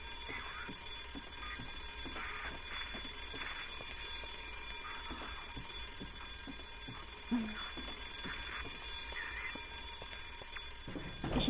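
An alarm in the video game Silent Hill: Downpour rings continuously in a subway setting, a steady metallic electronic ringing with rhythmic pulses, fairly faint, with a low background hum and no talk.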